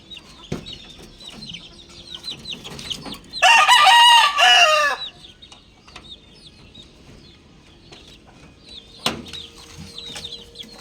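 Backyard chickens and caged roosters cluck and chirp steadily close by, with one loud rooster crow bursting out midway and occasional sharp knocks; no talking.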